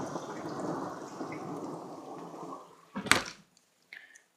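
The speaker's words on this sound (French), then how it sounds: "Orage modéré, je dirais." A moderate thunderstorm, with steady heavy rain hissing for several seconds and then a sharp crack of nearby thunder that fades quickly into quieter patter. No one speaks.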